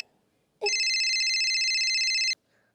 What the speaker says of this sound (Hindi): फोन किसका आ रहा है?